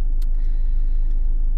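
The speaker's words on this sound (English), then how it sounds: "We are in traffic." Car driving through slow Friday traffic, a steady low engine rumble and road noise throughout with no talking.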